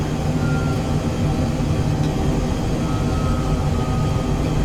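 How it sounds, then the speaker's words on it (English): An Embraer Phenom 100 in Microsoft Flight Simulator drops its landing gear on approach, giving a steady, loud, low rumble that continues unbroken throughout with no speech. "Get a nice rumble with the gear drops and the butt kicker"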